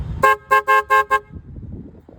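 A cheap Chinese-made replacement horn on a Daihatsu Cuore blares five short, evenly spaced toots close up, followed by low mechanical rattling.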